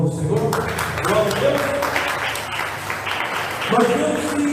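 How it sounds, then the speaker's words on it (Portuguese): Congregation clapping in praise during a church service, a broad wash of hand claps with voices mingled in, steady and fairly loud, swelling again near the end. "Posso ouvir as palmas louvando o Senhor?"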